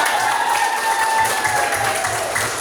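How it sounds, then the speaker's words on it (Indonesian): Classroom applause from students during an Indonesian lesson, a dense burst of clapping lasting the full stretch at steady loudness, with a faint tone and murmur underneath. "Tepuk tangan dulu dong."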